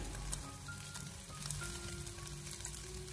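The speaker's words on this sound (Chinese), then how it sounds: "给它快速的翻炒一下，把它翻炒均匀" Shredded cabbage and carrot stir-fried in a wok over high heat after scrambled eggs: a steady, close sizzle and hiss with faint stirring scrapes, continuous throughout with no voices.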